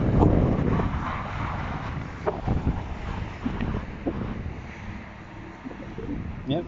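Strong wind buffets the microphone at a town-centre construction site, a loud continuous rumble with gusts rising and falling throughout, no voices.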